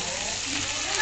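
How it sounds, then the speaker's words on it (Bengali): Shrimp fry in a pan over very low heat, giving a continuous, fairly loud, even sizzle with no other sounds. "মাছটা আমি ফ্রাই করতেছি"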